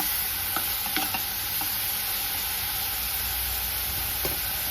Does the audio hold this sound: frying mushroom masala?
yes